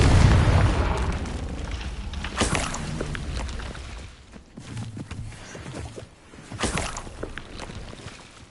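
A Confringo blasting spell goes off in Hogwarts Legacy. A heavy booming explosion is followed by crackling bursts and further deep impacts that fade and return over several seconds.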